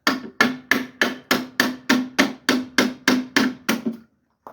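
Twelve loud, evenly spaced hammer blows ring out on a rusted metal part of a Geo Tracker, one roughly every third of a second, then stop.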